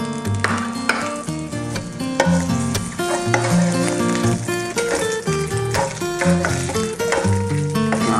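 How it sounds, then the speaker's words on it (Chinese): Pork fat stir-fries in a hot wok, a bright continuous sizzle layered under a steady musical backing, with scattered scraping taps and no talking. "把这个猪油炒出油"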